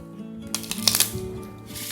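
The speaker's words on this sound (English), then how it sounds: "first we're going to give the cards a nice riffle shuffle" A deck of playing cards given a riffle shuffle: a quick burst of rapid, crisp fluttering clicks lasting about half a second, followed by a softer bridging rustle, close and clear with no talking.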